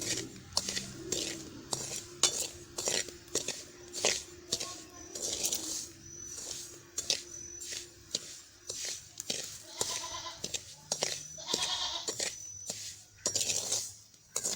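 A spoon scrapes and taps rhythmically against a pan as semolina roasts for suji halwa, with repeated short metallic strokes and scrapes coming close and clear throughout.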